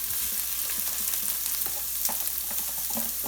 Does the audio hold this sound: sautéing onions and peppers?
yes